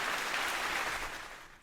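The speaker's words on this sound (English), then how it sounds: "let me find the clap" Recorded applause sound effect played during a comedy podcast, a dense smattering of many claps at moderate level that slowly fades out toward the end, with no talking over it.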